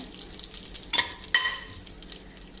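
Bay leaves and stone flower crackle in a modest splash of hot oil for Tamil-style mint rice, a steady near sizzle with two sharper stirring bursts around the middle.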